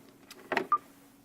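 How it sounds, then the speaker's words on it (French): A Galaxy Nexus smartphone running Android 4.0.4 gives a short, quiet electronic sound: a brief soft burst followed by a single clear tonal blip, alone over faint background hiss. "Ça c'est le son du téléphone"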